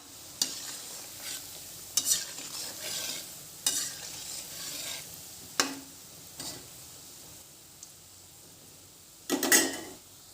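Gulab jamun balls fry in hot oil in a kadai, giving a soft steady sizzle punctuated by sharp clinks and scrapes of a spoon stirring against the pan.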